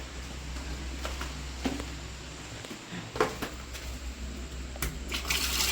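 Water runs in a public toilet near a waterfall, a continuous low splashing flow with a few sharp clunks and drips scattered through, fairly close and moderately loud, with a brief hissing gush near the end.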